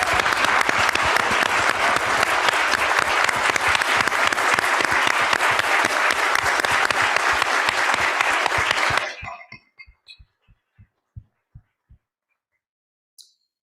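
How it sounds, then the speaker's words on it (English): An audience at an institute awards celebration applauds student awardees, a dense, loud burst of clapping that stops abruptly, leaving a few scattered isolated claps trailing off. "it is now time to recognize all our student awardees with an extremely warm set of warm applause"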